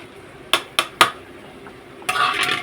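Mutton pieces cooking in oil in a pot, heard as three sharp metallic clinks of a utensil against the pot followed by a burst of soft sizzling and stirring, close by with no talking.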